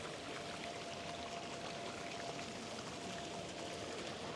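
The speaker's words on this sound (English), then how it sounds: "The fountain's continual water flow is entirely recycled, aligning with the artist's commitment to sustainable design" Water pours steadily through a sculpture fountain in Paris at night, a constant, even rush with a faint splashing texture that holds at the same level throughout. No voices are heard over it.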